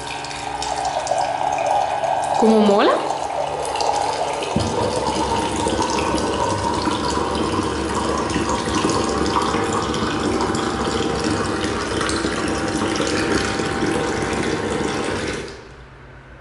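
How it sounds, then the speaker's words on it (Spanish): A small USB-rechargeable button-operated water dispenser pours a steady stream of water for around fifteen seconds, close and continuous, then cuts off abruptly; a voice speaks briefly near the start. "Se carga con cargador USB por aquí y se le da el botoncito y cae agua"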